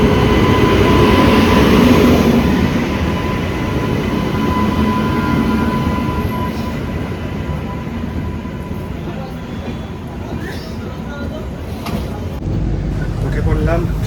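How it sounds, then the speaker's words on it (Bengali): A passenger train runs on from Naihati station at night with a steady rumbling roar and rhythmic rail clatter from inside the carriage, loud and continuous, with voices talking faintly underneath. "উঠে পড়লাম ট্রেনে, একদম নির্ধারিত সময়ে আমাদের ট্রেন নৈহাটি স্টেশনে এসেছিলো"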